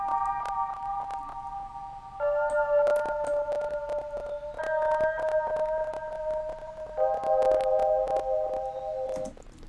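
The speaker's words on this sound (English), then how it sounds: "I did use this preset called Mallet's Dream, and I just copied and pasted the chords to kind of layer it" A Mallet's Dream synth preset in FL Studio, with chords copied and layered into a beat, plays sustained bell-like stacked tones. The chords change about every two seconds, with light percussive ticks over them and no voices.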